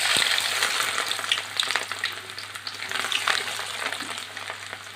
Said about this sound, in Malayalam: അപ്പോൾ നമുക്ക് ഈ ഇഞ്ചി ഒന്ന് വറുത്തെടുക്കാം.